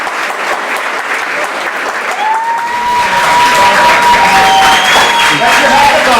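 An audience at a hackathon bursts into applause, dense and loud clapping that swells and keeps going, with a few whistles and cheers mixed into the crowd noise.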